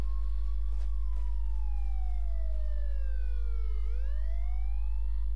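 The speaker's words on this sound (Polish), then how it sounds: "Tak, syreny." A loud police siren in GTA San Andreas wails, its pitch sliding slowly down and then sweeping back up over a constant low engine drone.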